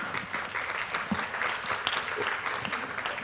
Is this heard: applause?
yes